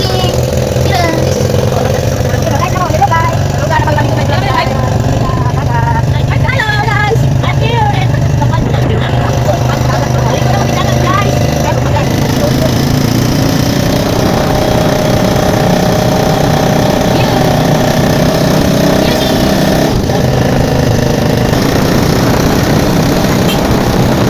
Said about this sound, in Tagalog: pakinggan nyo po yung tunog ng kolong-kolong